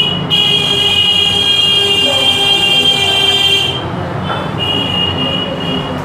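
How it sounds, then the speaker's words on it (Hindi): A vehicle horn honks outside as a long, loud, steady toot, cuts off, then sounds again more briefly, with street traffic rumbling underneath. "आज लगता है हॉर्न वाला भी कसम खा लिया है"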